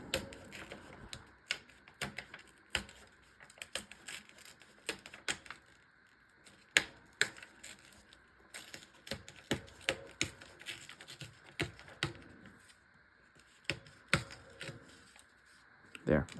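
Paper strips are torn by hand for a scrapbook layout, making a series of sharp, crisp rips and rustles in irregular bursts, close and fairly quiet.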